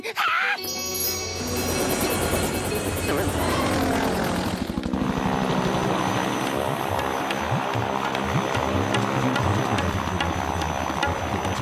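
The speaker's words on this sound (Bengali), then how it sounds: "আমি একটা ছোট প্লেনে করে উড়ে যাই।" A small propeller plane flies in a Motu Patlu cartoon scene, a loud, steady engine drone that holds for the whole stretch after a brief busy opening.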